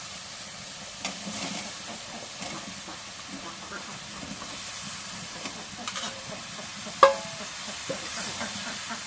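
A spice mixture frying in a pan being stirred, a soft continuous sizzle with scraping movements and one sharper clack, fairly quiet throughout.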